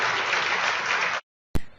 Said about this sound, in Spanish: Démosle un fuerte aplauso al Señor, mis amados hermanos